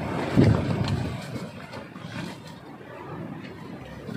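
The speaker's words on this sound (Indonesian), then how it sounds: "Suara flashlight yang berisik tertiup angin membuat saya terjaga." Wind gusts buffet a rattling flashlight on Mount Sumbing at night above Post 4 on the Cepit route, a rough, rumbling roar that swells briefly early and then settles into a steady blustery drone.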